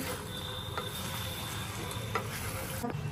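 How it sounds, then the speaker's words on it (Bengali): Mutton sautés in a pan, a faint, steady sizzle with a few soft stirring scrapes, heard close and alone. "কষানো হয়ে গেছে মাংস।"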